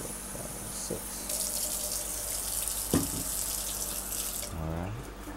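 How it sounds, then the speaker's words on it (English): Tap water runs steadily from a kitchen faucet, a loud, continuous hiss with a few clinks and knocks, no voices. "I'm just gonna use tap water"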